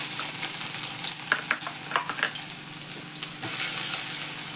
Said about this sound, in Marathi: आधी आलं लसूण घातलं